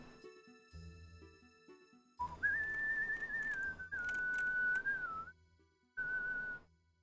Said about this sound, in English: I feel like I can't whistle very loud today.